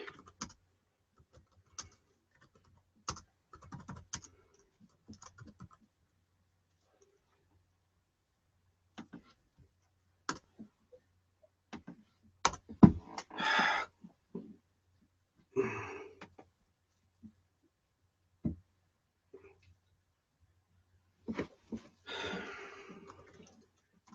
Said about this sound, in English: I know I don't talk when I'm typing